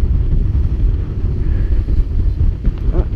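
Strong wind buffets the microphone at a paraglider launch site, a steady loud low rumble and roar with gusty swells running throughout.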